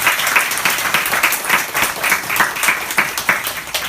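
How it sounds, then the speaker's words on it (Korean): A church congregation claps steadily through the whole stretch, a dense, sustained wash of applause with no voices over it. "박수로 환영하겠습니다"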